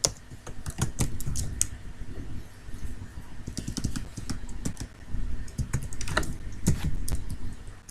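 Steady typing of program code on a computer keyboard, dense irregular keystrokes with short pauses between bursts, close and fairly loud, no talking.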